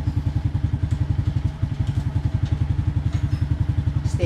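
A motorcycle engine with a stator-driven headlight runs in a fast, even chugging pulse, close and steady, with the revs holding fairly constant and no talking.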